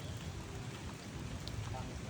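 Rain falls steadily in Baguio at a hotel garden, a dense, even hiss with no pauses across the short stretch.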